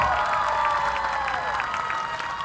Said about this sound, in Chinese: 再一次给我们最热情的掌声，给 R Piano Trio